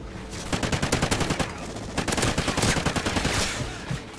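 Sustained automatic gunfire from Call of Duty Ghosts, a rapid string of loud, close bursts running almost the whole time with a brief lull midway and no talk over it.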